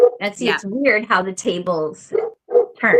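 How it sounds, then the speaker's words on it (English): A dog barks and yips in bursts indoors while a person talks over it at close range. "that's my dog. He's getting mad at me."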